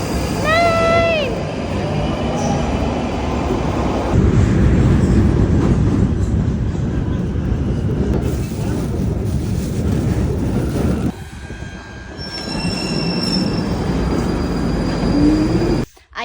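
A London metro train pulls away, a loud rumbling roar of carriages with high squealing wheels early on, then fading to a quieter hum with brief whines near the end.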